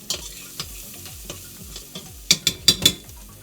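Dry oregano and crushed red chili flakes sweat in a hot pan, giving a soft sizzle under repeated spoon strokes that turn into four louder scraping stirs toward the end.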